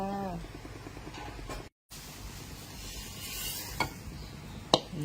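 Pork stir-frying in a pan gives a steady close sizzle with scraping and stirring, plus a couple of sharp utensil clinks near the end.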